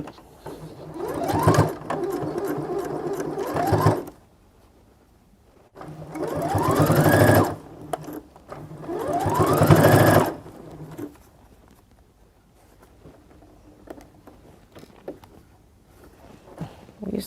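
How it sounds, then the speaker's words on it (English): A sewing machine stitching fabric in three separate runs, each a steady, close mechanical whirr lasting a few seconds, with quiet pauses between them. "take it back to the sewing machine and sew"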